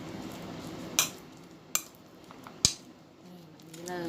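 A spoon scraping and clinking against a bowl while mashed banana is mixed with oats for a homemade oat face scrub, three sharp clinks over soft stirring, close and quiet.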